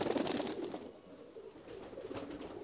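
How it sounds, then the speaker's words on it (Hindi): A teddy pigeon in a pigeon collection gives soft low coos, faint and close, in a short burst followed by quieter murmuring. "ये देखिए टेडी कबूतर"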